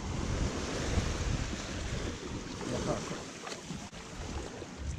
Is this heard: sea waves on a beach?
yes